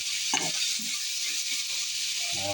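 Tomato, onion and garlic sautéing in hot oil in a pan give a steady broad sizzle throughout, with a few stirring clatters near the start and end.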